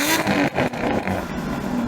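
Aston Martin Valkyrie, Vanquish and V12 Vantage launching at a drag race start, a loud, close engine roar with a sharp burst then a sustained, rough revving drone.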